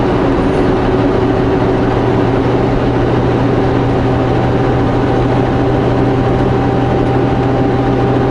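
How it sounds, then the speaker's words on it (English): Loud, constant rumbling drone of a train moving along the tracks, steady throughout with a deep low hum and broad noise. "Train still moving, or is it coming to a stop?"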